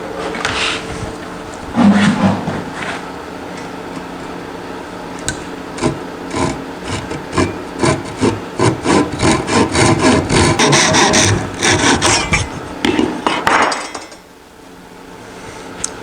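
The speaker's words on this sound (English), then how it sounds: "And then saw it off." A hand saw cuts through a glued wooden plug on a carpenter's toolbox, a steady run of close, rhythmic rasping strokes that speeds up and then stops abruptly.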